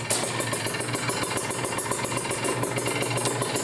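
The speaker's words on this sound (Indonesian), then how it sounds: "Sebentar, saya coba gas-gas tipis ya." A freshly started, still-cold engine idles with a steady rough throb and gets light, gentle throttle blips, running continuously and close with no talking.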